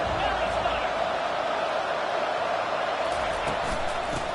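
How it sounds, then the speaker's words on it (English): A college football stadium crowd gives off a dense, steady roar that fills the whole stretch without a break, with a voice talking over it. "Listen to the crowd energy here in the early going."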